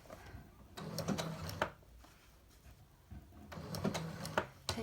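A sewing machine stitches appliqué on fabric in short bursts, a few quick mechanical stitches at a time with pauses between while the presser foot is lifted to turn, close and fairly quiet.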